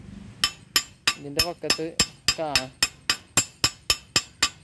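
Metal tool tapping on a fresh weld to chip away slag, struck in a steady run of about fourteen sharp, ringing hits close by, with someone briefly speaking over a few of them.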